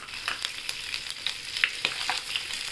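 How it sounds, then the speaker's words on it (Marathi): Garlic, onion, tomato and red chilli frying in hot oil for a chana dal chutney give a steady, close sizzle with light stirring clicks throughout. "लसूण, कांदा, टोमॅटो आणि लाल मिरची हे आपण तेल तापत ठेवले त्याच्यात टाकूया।"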